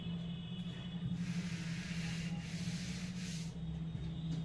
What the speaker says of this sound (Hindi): इसको हम रब करते हैं